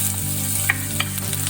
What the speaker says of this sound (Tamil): எண்ணெய் சூடானதுக்கப்புறம் ஒரு சின்ன சைஸ் வெங்காயத்தை நல்லா பொடியாக நறுக்கி இதில் சேர்த்துக்கோங்க